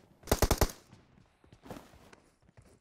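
A quick burst of four or five loud automatic gunshots in the PUBG Mobile video game, followed by fainter scattered shots and soft footstep-like taps.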